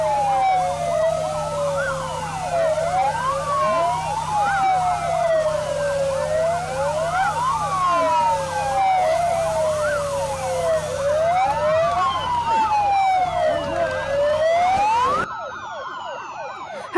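A fire truck siren wails continuously in rising and falling sweeps, loud and close, over a low engine rumble before cutting off near the end, as the truck heads to a wildfire during a safety drill in South Korea.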